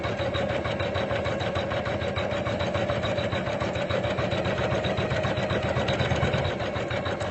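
An Usha Janome Memory Craft 550-E sewing machine runs an embroidery design with a steady, close, continuous mechanical whir and rapid needle chatter throughout.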